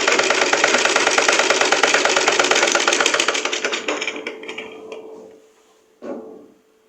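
Sewing machine stitching a pattu pavadai skirt: rapid rhythmic needle clatter runs close and loud, then slows and fades to a stop, ending with a single soft thump.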